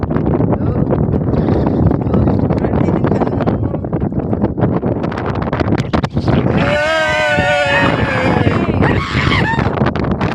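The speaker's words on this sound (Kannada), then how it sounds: "ಫುಲ್ಲು ಗಾಳಿ ಫುಲ್ಲು ಜೋರು ಗಾಳಿ ಫ್ರೆಂಡ್ಸ್" Strong wind on an open mountain trek, loud and constant as it buffets the microphone, with a voice briefly rising through the roar partway through.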